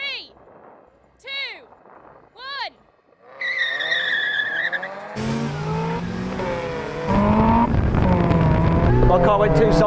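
Supercharged Mazda Roadster NC launching in a drag race, with a supercharger whine and engine revs building into a loud rising roar and scrubbing tire squeal. Several sharp chirps come first, and people talk over the engine.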